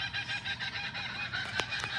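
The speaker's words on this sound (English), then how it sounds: "Got a kookaburra going crazy up there somewhere." A kookaburra calls in rapid, repeated cackling bursts from somewhere overhead, a steady run of harsh, hooting notes, somewhat distant and moderately loud, with no talk.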